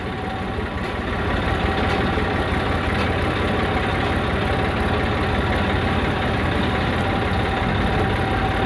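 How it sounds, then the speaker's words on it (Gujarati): A tractor engine runs near a groundnut field, a steady, loud low rumble that holds evenly throughout with no change in pace and no voices. "ચાલુ કરીએ ટ્રેક્ટર હાંકવાનો."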